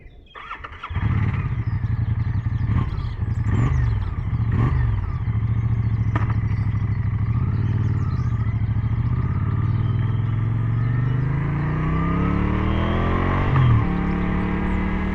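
A Moto Guzzi V100 Mandello S motorcycle cranks and fires up, then settles into a throbbing close-up idle with a few throttle blips before the engine note climbs as the rider pulls away.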